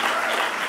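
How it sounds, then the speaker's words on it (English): An audience at a writers and illustrators awards event gives a round of applause, a brief, loud, continuous wash of many clapping hands. "Give her a round of applause"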